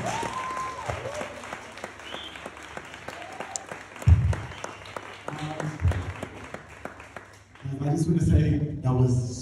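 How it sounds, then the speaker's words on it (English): Scattered, crisp hand claps from an audience at a guest talk run throughout, swelling into fuller applause near the end while a host keeps talking over it. "Give this GU a round of applause"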